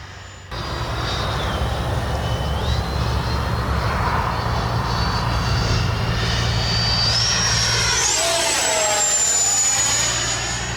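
FMS Integral 80mm EDF RC model jet flying by, a steady loud turbine whine with rising and falling pitch as it passes overhead, sustained throughout with no talk.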